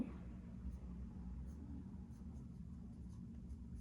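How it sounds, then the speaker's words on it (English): A pen scratches on paper during a math worked example, soft and close over a low hum, with faint, sparse strokes and no voices. "just write it here on the side."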